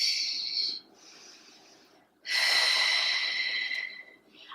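Two long, forceful breaths out during Pilates alternating toe taps for abdominal work: close, airy and hissing, each lasting about two seconds with a quiet pause between them.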